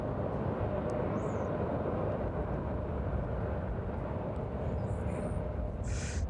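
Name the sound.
aircraft departing East Midlands Airport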